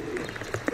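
Fancy pigeons at a 2017 club show in Aigio, Greece, giving short soft coos that stand out against a steady murmur of background noise, with a couple of closer, louder coos near the end.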